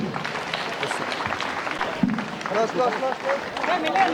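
Applause from a crowd at a school sports event in Armoor, with dense clapping mixed with cheering and voices, steady and fairly loud throughout.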